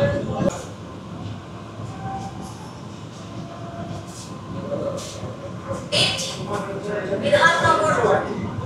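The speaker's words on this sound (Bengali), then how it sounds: "ये ট্রেন আমাদের ঢুকছে বিধাননগর রোড স্টেশন।" Sealdah-Bangaon AC local train entering Bidhannagar Road station, a steady rumble of wheels and carriages building louder toward the end, with voices talking over it.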